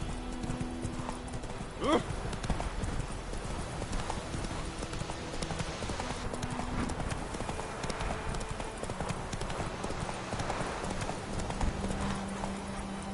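Roach, a horse in The Witcher video game, gallops with steady clip-clop hoofbeats throughout, and a single whinny rises near the start; the hooves stay fairly close and even in rhythm.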